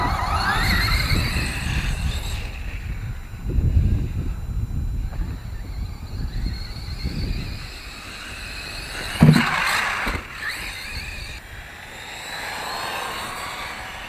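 A Losi Rock Rey RC rock racer with a 4300 kV motor on a 2S battery runs outdoors, its electric motor whining in surges that rise and fall, with gusty wind buffeting the microphone and a sharp knock partway through.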